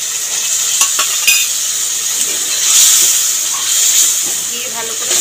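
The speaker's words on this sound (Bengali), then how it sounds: "মশলা কষাতে কষাতে মশলা দেওয়া জলটাও দিয়ে দেবো।" Spiced water is poured into a pan of sizzling masala while soybean curry is being cooked, giving a loud, steady hiss and crackle of frying close by that swells briefly midway.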